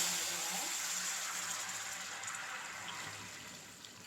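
Filtered jaggery syrup pours into a pan for soft paal kozhukattai, giving a quiet, steady liquid trickle and splash that slowly fades, with faint background noise.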